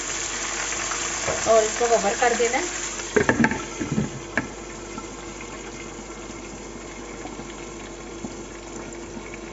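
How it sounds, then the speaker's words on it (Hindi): Water is poured into browned onions in a cooking pot, giving a loud sizzling, bubbling splash in the first few seconds that settles into a low simmer, with a voice speaking over it. "अब हमने इसमें जल्दी से थोड़ा पानी ऐड कर देना है"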